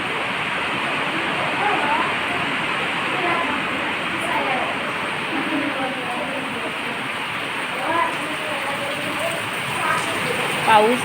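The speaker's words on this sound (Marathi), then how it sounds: "पावसाची सततधार चालू आहे आमच्या शाळेजवळ." Heavy, continuous rain pours down near a village school, a dense steady hiss with faint voices now and then beneath it.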